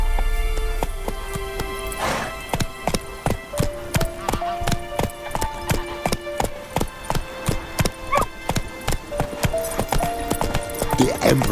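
Roach the horse galloping in The Witcher 3, hooves clip-clopping in a quick steady rhythm, close and clear, with a game music score playing beneath.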